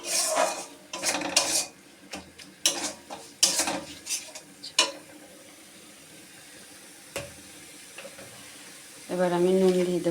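Cooking sounds for a cauliflower and egg dish: clinks and scrapes of utensils against a pan of spices, then water poured in near the end with a sizzling hiss, while a person speaks.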